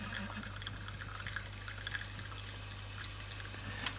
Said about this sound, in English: As long as it's not clear, we can keep pulling this and we'll get more coffee